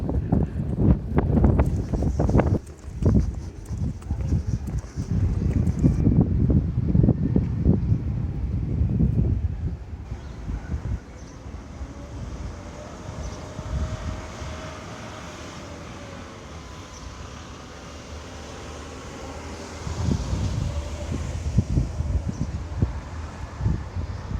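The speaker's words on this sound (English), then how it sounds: "It's warmer today, but we've got the wind apparently" Wind blowing at Back Beach in Teignmouth on a warm day, rough gusty buffeting against the microphone that is loud at first, eases to a steadier rush, then picks up again near the end.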